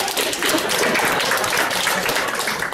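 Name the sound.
group applauding Frédéric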